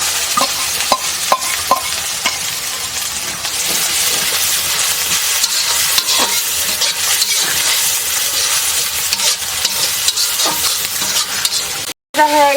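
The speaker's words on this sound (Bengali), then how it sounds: "মশলা ভাজা হয়েছে।" Spices for a chicken curry fry in a pan with a loud, steady hissing sizzle close by, broken by repeated stirring scrapes and clinks, with a brief drop-out near the end.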